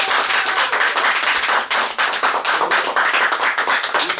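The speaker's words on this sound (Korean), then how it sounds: "우리 그 선생님께 마지막으로 큰 박수 드리겠습니다." Loud, close audience applause for a poet at a literary talk concert, a dense flurry of clapping that holds steady throughout.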